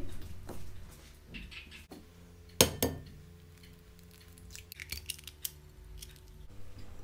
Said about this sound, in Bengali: ডিমগুলোকে হালকা একটু ফেটিয়ে নিয়ে